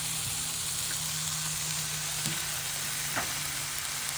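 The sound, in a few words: bacon sizzling on a grill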